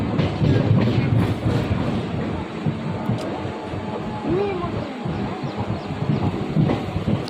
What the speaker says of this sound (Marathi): पनवेल बघा तिथे वॅक्स 7 लोकोमोटिव्हवर मालगाडी निघाली आहे